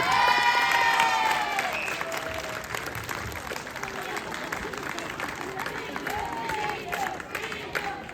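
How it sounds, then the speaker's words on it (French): An audience at a local Miss and Mister pageant applauds the contestants, with loud, continuous clapping and some cheering and whistles that gradually ease off over several seconds. "Vous pouvez les applaudir."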